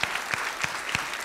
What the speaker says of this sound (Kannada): ಚಪ್ಪಾಳೆ ಹೇಳ್ರಪ್ಪ